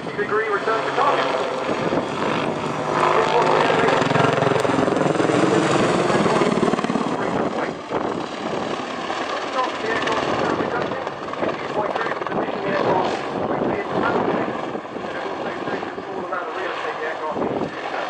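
An Apache gunship helicopter flies a display at the Cosford Airshow, its loud rotor thrum and turbine whine sweeping past then settling into a steadier distant drone, with announcer commentary over it.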